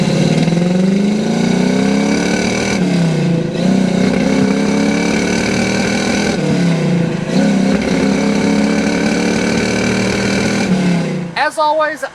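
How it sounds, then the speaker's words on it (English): A 1967 Chevrolet Camaro RS SS with a 350 V8 and a 4-speed manual drives and pulls through the gears, its engine note rising repeatedly with shifts in between, loud and close from the cabin, cutting off abruptly near the end. "This is a 1967 Chevrolet Camaro RS SS with a 350 and a 4-speed"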